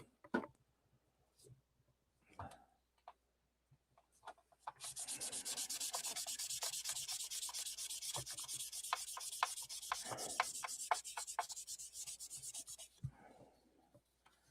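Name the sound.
sanding by hand with finer grit sandpaper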